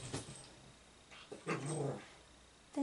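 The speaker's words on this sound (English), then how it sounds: "my dog's growling." A pet dog growls in a home in short low rumbling bursts, first near the start and again more strongly midway, close and fairly faint, with quiet pauses between and no talk.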